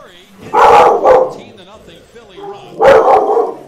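A dog barks in loud, close bursts, a pair of quick barks followed by another pair a couple of seconds later, with softer whining noises between them.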